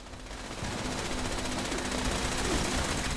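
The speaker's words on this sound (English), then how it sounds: "She's getting wrecked by the turret, which is cool because it kills that Assaultron" Turret gunfire in Fallout 76: a continuous rapid stream of automatic shots at steady volume, dense and rattling, with no talk over it.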